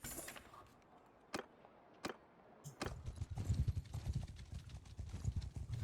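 In the medieval strategy game Mount and Blade Bannerlord, horses' hooves clip-clop. A few sharp, separate knocks come first, then a denser, rumbling run of hoofbeats.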